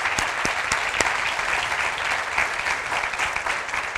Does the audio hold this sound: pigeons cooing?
no